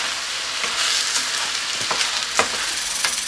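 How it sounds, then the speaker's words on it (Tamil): Precooked, cooled rice is stirred while frying in a pan for a mutton and chicken feast, giving a loud, constant sizzle broken by scraping spatula strokes, with no voices. "இப்போ தான் நல்லாயிருக்கும் கிளறத்துக்கு."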